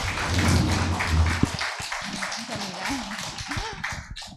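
Audience at a humanities lecture forum applauding the lecturer, a steady wash of clapping under someone speaking over it, tapering off toward the end.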